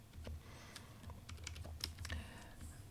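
Keys tapped at a steady pace on a computer keyboard while a Python print statement is typed, soft close clicking with no talk over it.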